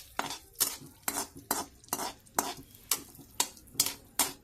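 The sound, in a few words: pistachios being fried in ghee for a sweet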